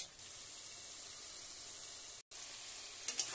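A spoonful of ground cashew, poppy seed and melon seed paste fries in oil, giving a steady, close hiss that breaks off for a moment before resuming, with a few soft clicks near the end.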